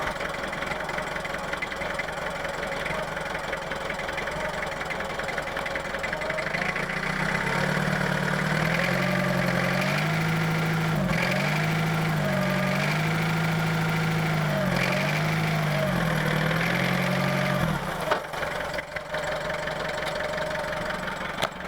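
A Lansing Bagnall FODR6 forklift's Perkins four-cylinder diesel idles steadily nearby, a low chugging drone whose pitch wavers and rises for a stretch before dropping back near the end.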